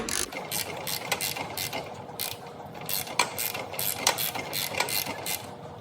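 A ratchet turns an Audi V6 engine over by hand with its spark plugs removed, giving steady clicking pawl sounds in short bursts, close and fairly quiet.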